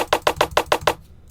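A short percussion sample in FL Studio for a 3 step beat plays alone as seven quick, evenly spaced dry clicky hits, then cuts to near silence.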